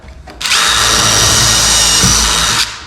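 A power drill driving screws whirs at a steady high pitch for about two seconds, close and loud, then spins down.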